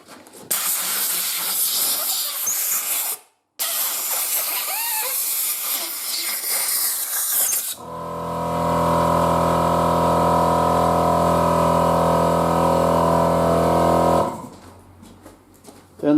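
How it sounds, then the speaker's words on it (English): Compressed air blasts loudly from a compressor airline pushed into the end of a motorcycle handlebar to lift off an Oxford heated grip, a steady close roar lasting several seconds after some earlier clattering handling noise. "get your airline, your compressor airline, stick it into the end"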